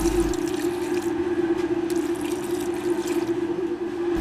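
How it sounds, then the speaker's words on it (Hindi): Water poured from a cup into a pot of mutton karahi cooking with turmeric and red chilli, a steady close pouring and splashing with a constant background hum throughout. "ये चीज़ें डालने के बाद 1 कप पानी का डाल देंगे।"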